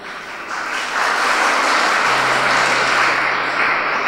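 A crowd at a Tamil Christian youth retreat applauds after a preacher's remark, a broad, sustained wash of clapping that swells after the first second and holds steady and loud for about four seconds.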